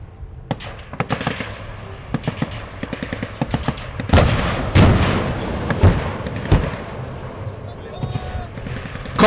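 Malaysian infantry fighting vehicles fire 12.7mm heavy and 7.62mm general purpose machine guns in military live-fire training, with loud, sharp reports in rapid bursts and scattered single shots, broken by several heavier booming blasts.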